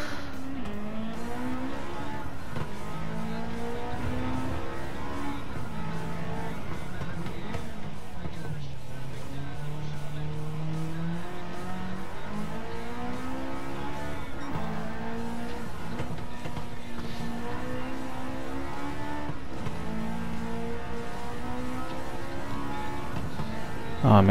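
A Honda S2000 on race medium tires racing in Gran Turismo 7, its engine droning steadily and rising and falling through gear changes on a cornering track, with occasional tire squeal.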